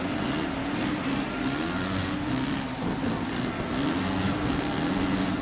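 Motocross bikes race on a wet track at Matterley Basin in the MXGP3 video game, their engines giving a steady, droning whine with shifting pitch that stays loud and continuous.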